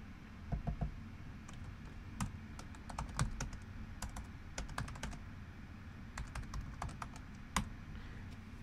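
Keys clatter on a computer keyboard in irregular bursts and single taps, fairly quiet over a low steady background hum, with no voices.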